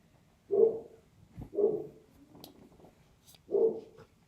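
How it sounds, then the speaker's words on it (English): Mastiff dogs barking, three deep, full barks spaced about a second apart with quieter rustling and a faint whine between, fairly close and loud against a quiet background. "I have mastiffs."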